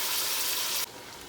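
Cumin and tomato hit hot oil in a pan with a loud, broad sizzle that abruptly drops to a quieter steady frying hiss, heard briefly and close with no talking.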